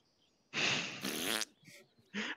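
A fart sounds in a game, two loud close blasts in quick succession followed by shorter sputtering bursts, with no talk over them.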